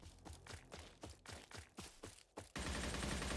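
Gunfire in the video game Covenant: a rapid series of about a dozen sharp shots in uneven bursts, followed by a sustained loud blast of noisy firing.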